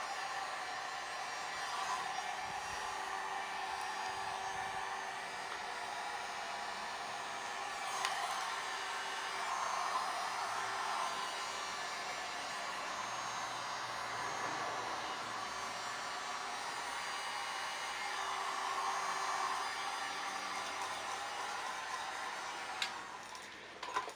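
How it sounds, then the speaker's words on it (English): A heat gun warms headlight overlay film on a 2013 Subaru WRX, a steady, moderate blowing hiss running continuously with a faint ticking beneath it. "just give it a once over with the heat to relax everything"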